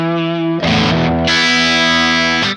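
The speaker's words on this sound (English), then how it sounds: "So you can play without any detune or chorus, and then you'll just have the reverb" Electric guitar chords played through a Neunaber Immerse reverberator pedal set to reverb only, a sustained chord ringing out, then a brighter strummed chord that swells and lingers in a long wash before cutting off.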